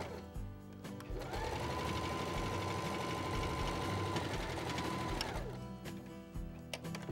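Sewing machine stitching fabric for a double-sided cachepô, a steady close mechanical whir running for several seconds and then stopping, with quiet clicks around the start and finish.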